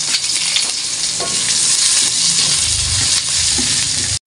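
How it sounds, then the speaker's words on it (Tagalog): Garlic and onion sauté in a hot pan, a loud, close, continuous sizzle with a few utensil knocks and scrapes, no voices over it. "gigisa na po natin yung ating bawang at sibuyas"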